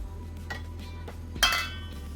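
A spoon stirs flour into lemon quick bread batter in a bowl, giving a few soft scrapes and one sharper clink against the side over a low background hum.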